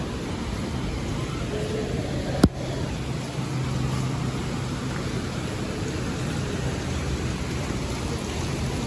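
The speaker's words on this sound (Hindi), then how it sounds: "देखो कितनी तेज बारिश हो रही है।" Heavy rain falling outside a building in Delhi, a dense steady hiss that fills the whole stretch with one sharp knock partway through, no voices.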